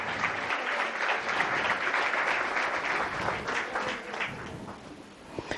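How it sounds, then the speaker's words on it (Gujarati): A crowd applauding steadily at a Women's Day event, dense continuous clapping at close range that holds throughout with no voices on top. "એટલે એકવાર જોરદાર તાળીઓ થઈ જાય એમની માટે"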